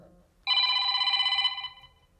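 A telephone on a live call-in show rings in one sustained, loud burst lasting about a second, then fades as the line connects.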